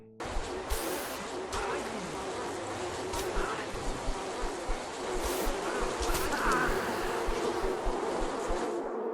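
Bees buzz inside an apiary in a video game, a dense continuous drone with swelling passes and a few sharper accents, loud and steady with no talking over it.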